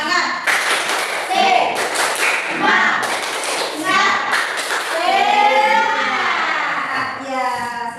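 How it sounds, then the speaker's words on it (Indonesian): Schoolchildren in a classroom perform a rhythmic spirit clap, sharp patterned bursts of clapping in sync for several seconds, mixed with their chanting and shouted voices that carry on toward the end. "kita tepuk semangat terlebih dulu biar kita lebih semangat belajarnya"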